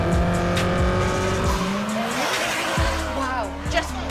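Classic race cars at the Goodwood Revival motorsport event, with loud engines revving and shifting through gears close by, a sharp downshift and tire squeal, with talk mixed in.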